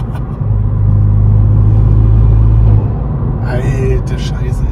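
Ford Fiesta ST Mk8 with a Milltek exhaust and Pipercross intake pulling under light load in sixth gear at about 80 km/h, a steady, loud, deep engine drone inside the car, with a voice briefly at the end.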